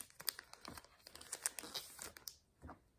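A trading card pack being ripped open close up, a quiet run of crinkling and tearing foil with sharp irregular crackles.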